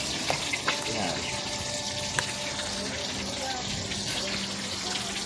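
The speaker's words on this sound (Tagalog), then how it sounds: "Piprito ko muna siya guys bago ko gataan." Cut pieces of fish sizzling in hot oil in a pan before being simmered in coconut milk; a steady crackling fry with occasional sharp pops and spatters throughout, fairly close.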